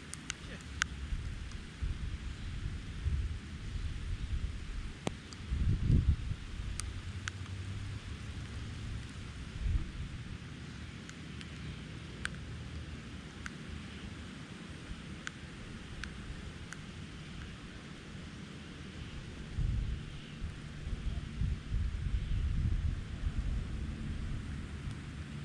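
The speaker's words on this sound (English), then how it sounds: "Oh, it's starting to rain again." Steady rain hisses outdoors at an off-grid homestead, with low rumbles of thunder swelling around the sixth second and again near the end, continuous and fairly close.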